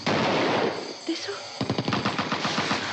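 Machine gun fire in a Hindi action film scene: a turbulent rush gives way to a fast, rhythmic burst of close, loud automatic shots rattling on steadily.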